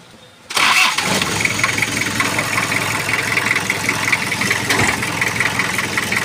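An old 1999 truck with a 2-litre engine cranks and catches after a quiet moment, then settles into a steady, loud, close idle with a faint rattling knock throughout.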